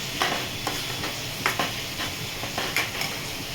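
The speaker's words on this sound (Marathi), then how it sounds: "छान परतून घेते" Onion, tomato and crumbled paneer sauté for bhurji in a pan, giving a steady close sizzle broken by regular scraping stirs of a spatula.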